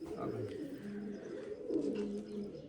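A pigeon coos low and soft, a murmuring call that rises and falls against a faint background.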